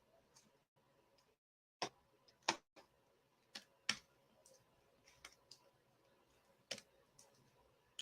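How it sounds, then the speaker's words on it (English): Scattered clicks of typing on a computer keyboard, irregular keystrokes spaced apart, some sharper and louder than others, over a quiet background with a faint hum. "I'm typing faster than the computer is keeping up."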